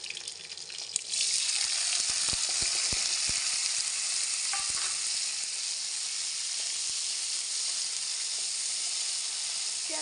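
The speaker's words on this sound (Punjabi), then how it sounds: "ਪਿਆਜ਼ਾਂ ਨੂੰ ਵੀ ਆਪਾਂ ਵਧੀਆ ਬਰਾਊਨ ਕਰ ਲਵਾਂਗੇ ਜੀ।" Onions and two green chillies hit hot oil in a pan, bursting into a loud, sustained sizzle after a brief quiet start, with scattered spoon clicks as they are stirred; nobody speaks.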